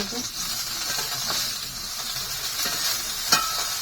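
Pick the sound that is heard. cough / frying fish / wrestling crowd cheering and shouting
frying fish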